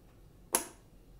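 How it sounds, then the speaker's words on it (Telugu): The blades of a Philips hand mixer snap into place with a single sharp, faint click that stands alone against quiet background. "ఇలా ప్రెస్ చేసిన తర్వాత టిక్ అని సౌండ్ వస్తుంది"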